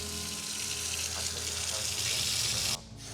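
Water pours steadily into a container for a protein shake, making a continuous close rushing sound that stops suddenly near the end.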